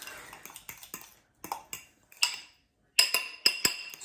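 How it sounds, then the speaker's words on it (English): A spoon stirs minced garlic into a bowl of guacamole, making quiet, irregular clinks and scrapes against the bowl in short bursts separated by brief pauses. "And we're gonna stir that into our guac."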